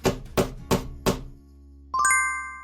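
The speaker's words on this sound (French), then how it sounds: "Le marteau." A hammer strikes four times in an even rhythm, sharp close knocks each with a brief ringing tail, followed by a short bright chime.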